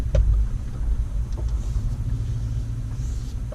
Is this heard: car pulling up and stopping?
yes